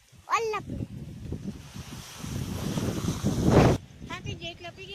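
Strong wind gusting at the seashore, a steady broadband rush that swells toward a loud peak before dropping off, with someone talking over it.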